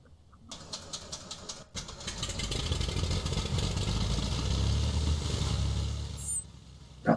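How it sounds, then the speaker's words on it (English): Light propeller aircraft engine cranking over and catching, then settling into a steady, loud idle rumble at about 1000 rpm before a sharp blip at the end. "Prop started. Engine start by 22."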